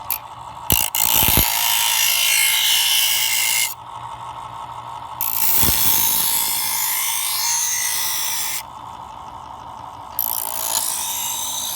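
An electric knife sharpener grinds a knife blade in several strokes, harsh loud scraping bursts separated by the motor's steady whine, each pass growing quieter on finer stones.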